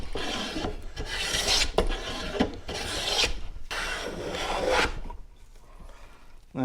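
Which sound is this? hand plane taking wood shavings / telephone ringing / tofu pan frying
hand plane taking wood shavings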